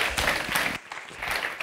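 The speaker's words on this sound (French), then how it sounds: "On l'applaudit particulièrement pour cette belle conférence" Audience applause following a university lecture on digital design and animated virtual worlds, a dense patter of clapping with a brief dip midway before resuming.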